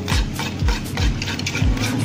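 A spoon stirs yogurt batter thinned with water in a bowl, making rhythmic, close scraping sweeps roughly every half second, loud and alone without any talk.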